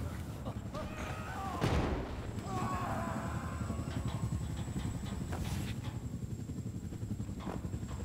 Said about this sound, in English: who is shooting rockets like crazy?